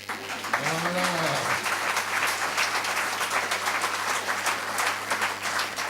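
Congregation applauding in a church, with steady broadband clapping from many hands that carries on throughout at an even level, and a voice speaking briefly near the start.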